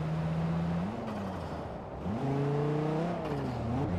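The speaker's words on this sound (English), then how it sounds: "It doesn't sound like my engine." Car engine in the Forza Horizon 4 racing game revving up and down in a few steady tonal sweeps, fairly quiet and alone with no talk.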